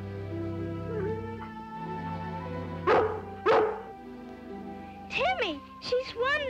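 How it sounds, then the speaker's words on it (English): A collie barks a few times, two sharp barks midway followed by a quick run of higher yips and whines, over background music with a voice talking at times. "I sure wish Lassie was my dog."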